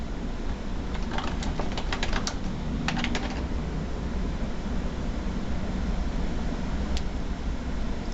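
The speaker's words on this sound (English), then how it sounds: "I'll type long-term care in the search box at the top of the screen." Typing a short phrase into a search box on a computer keyboard, with a quick run of close key clicks near the start, a couple of isolated taps later, and a steady hiss underneath.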